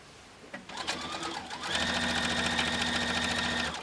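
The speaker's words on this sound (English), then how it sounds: "My Baby Lock Jubilant is handling it like a champ here." A Baby Lock Jubilant sewing machine stitches through a quilted placemat tote bag with two layers of batting and two layers of fabric; a few clicks lead into a loud, steady, close running whir.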